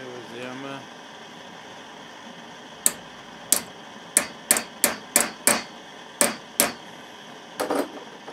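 Hammer striking a hacksaw blade being shaped into a woodcarving gouge, about ten sharp metallic blows in an uneven rhythm, close and ringing, after a brief voice at the start.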